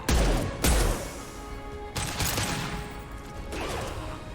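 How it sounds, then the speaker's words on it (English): Heavy gunfire from an impact shot in the video game Mass Effect 2, two sharp loud blasts close together followed by further booming shots and crashing impacts. "Firing an impact shot!"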